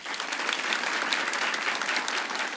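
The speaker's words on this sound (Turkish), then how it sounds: "Ayşenur'la Tanju tekrar alkış atacağız." A studio audience on the Turkish comedy programme Çimen Show breaks into dense, steady applause for contestants Ayşenur and Tanju. The clapping is loud and continuous throughout, with no voices on top of it.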